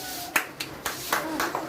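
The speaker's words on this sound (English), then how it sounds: "Clap for him." Children in a classroom clap for a classmate, a short burst of sharp, uneven hand claps, close and fairly loud, with a faint voice in the background.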